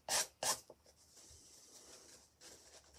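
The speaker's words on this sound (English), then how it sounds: "sand it off, get an emery board" An emery board sanding the edge of a paper envelope: two quick, bright rasping strokes up front, then fainter scratchy rubbing and a softer stroke near the end, close and quiet.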